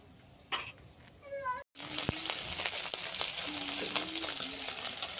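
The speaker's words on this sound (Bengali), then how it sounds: "কড়াইতে আগে কিছুটা মাছ দিয়ে দিয়েছি ভাজার জন্য, সেগুলো ভাজা হচ্ছে" Salted, turmeric-coated sand goby (bele fish) frying in oil in a wok over a wood-fired stove: a steady loud sizzle after a brief cut, with a short cat-like whine early on and no talk.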